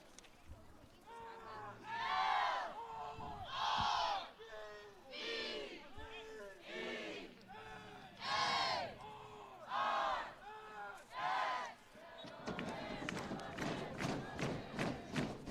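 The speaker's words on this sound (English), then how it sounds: "Crowd's trying to make themselves known here." Fans at a men's college soccer match between Lenoir-Rhyne and Carson-Newman chant in loud, rhythmic rising bursts, followed by a stretch of rapid clapping or stamping.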